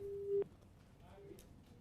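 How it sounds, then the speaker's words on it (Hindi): On a telephone call whose line has gone dead, a single short busy-signal tone sounds at the start, then cuts off to faint line noise. "अब यह कहना मुश्किल कि संपर्क टूट गया या फोन काट दिया गया है"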